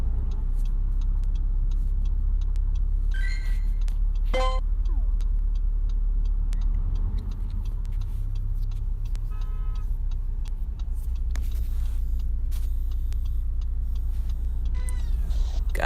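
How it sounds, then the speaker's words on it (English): Steady engine rumble and road noise from inside a car moving through heavy traffic during a Pokemon GO outing, with occasional brief tones and clicks over the continuous low drone. "God, there's so much traffic"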